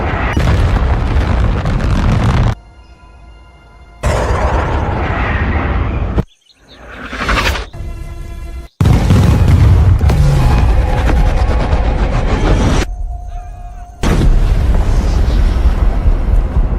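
A bomb dropped from an aircraft in an action film detonates: heavy, deep booms and rumbling blasts, loud and broadband, broken up by abrupt cuts and brief quieter gaps between the impacts.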